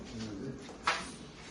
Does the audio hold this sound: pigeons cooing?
yes